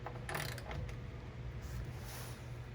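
Ratchet wrench working on tight bolts of a Nissan GTR rear bumper, faint clicking mechanical ratcheting over a low hum, brief and quiet with no talk.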